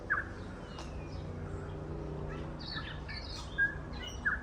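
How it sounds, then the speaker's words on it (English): Small birds chirp in short, high tweets over a steady low outdoor hum, with a few quick calls scattered through. "And the birds, aren't they lovely?"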